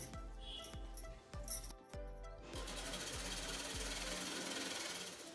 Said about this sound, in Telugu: డబల్ స్టిచ్ వేసుకుంటే చాలా బాగుంటుంది